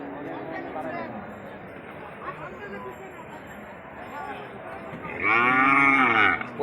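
Cattle at a busy livestock market for the sacrificial festival, with one close, loud drawn-out moo near the end rising over steady crowd chatter and nearby talking.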